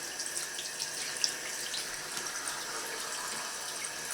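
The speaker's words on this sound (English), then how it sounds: "then run them very slowly" Tap water runs in a steady, fairly soft stream as glasses are rinsed under it at a sink, a continuous even hiss with no talking.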